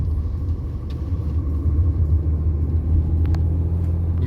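Inside a Renault Avantime V6 the engine holds a low, steady rumble at cruising pace, with faint clicks and road noise in the cabin.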